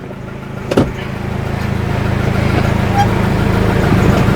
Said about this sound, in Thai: ี๋ยวลองเกียร์แป๊บนึงนะครับ เพราะว่า เมื่อวานเข้าเกียร์ไม่ได้นะครับ